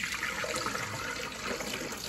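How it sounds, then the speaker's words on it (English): Hot water from a kettle pours steadily into a coffee maker, a soft, continuous splashing stream heard close and alone. "I made some hot water last night for a beverage, and I'm gonna pour it into here"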